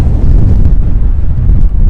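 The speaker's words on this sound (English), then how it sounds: "Today still is very windy, as you can probably tell by my hair and the wind" Loud, low roaring buffets of strong wind at St. Peter-Ording, Germany hit the microphone continuously, a heavy rumbling blast with no pauses.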